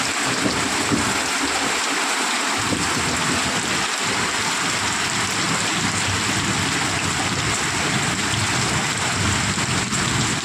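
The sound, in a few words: heavy rain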